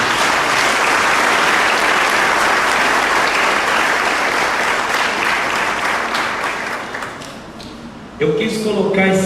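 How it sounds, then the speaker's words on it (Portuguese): Applause from a church congregation, a dense sustained wave of clapping that fills the room, slowly thinning toward the end before a voice and music cut in. "Vamos aplaudir esse vídeo aí, muito bonito."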